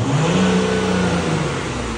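A parked car's engine revs hard with the gear lever set between P and R, a loud, close, sustained mid-pitched roar that holds steady and eases slightly toward the end.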